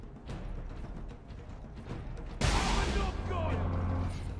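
A cannon fires in the Warhammer 40K Space Marine video game, a sudden heavy blast partway through that rolls into a rumbling, crackling aftermath over dense game noise.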